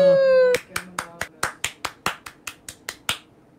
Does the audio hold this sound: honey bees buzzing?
no